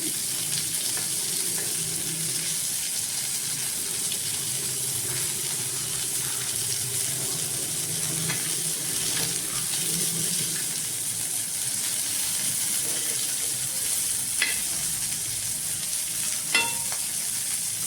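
Prawns sizzle steadily in a little hot oil in a pan, a loud, continuous close frying hiss with a few faint clinks of stirring, with no talking.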